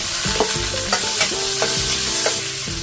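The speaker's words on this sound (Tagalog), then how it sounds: "Unahin kong ilagay itong taba para lumabas yung mantika." Pork fat rendering in a hot pan before frying pork chops, a bright crackling sizzle under repeated stirring knocks and short tonal scrapes, close and fairly loud.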